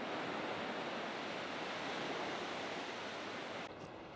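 A wave breaking and washing over a sea kayak on a windy stretch of coast near Portsoy and Findlater Castle, a steady loud rush of surf and spray that holds for several seconds before easing slightly at the end.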